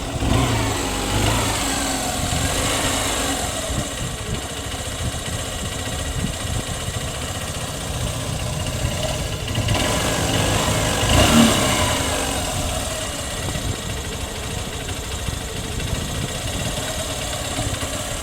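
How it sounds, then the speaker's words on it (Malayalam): A used car's engine runs at a steady idle, a continuous low rumble close to the microphone with slight swells in revs and no speech. "നമുക്ക് വണ്ടി ഒന്ന് സ്റ്റാർട്ട് ആക്കി നോക്കാം സൗണ്ട് കിട്ടും"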